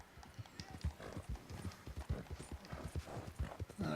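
A horse gallops in the open-world western video game Red Dead Redemption 2, its hoofbeats a rapid, driving clip-clop rhythm that stays close and loud throughout.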